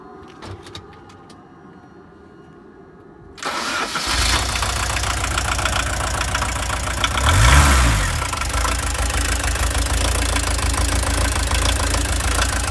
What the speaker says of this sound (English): you can show the motor and the exhaust when it starts